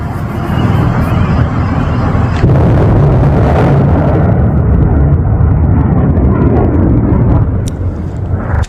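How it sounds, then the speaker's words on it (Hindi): Missile attack explosions over Tel Aviv during the Iran–Israel war form a loud, continuous roaring rumble with heavy bursts, swelling abruptly partway through and then holding a dense, booming wash. "ईरान के इजराइल से जंग के आधिकारिक ऐलान के बाद मिसाइल अटैक्स जो शुरू हुए हैं, वो देखें"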